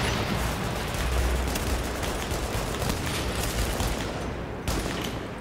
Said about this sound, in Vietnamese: cầm cái súng ngắm là nã thằng này chưa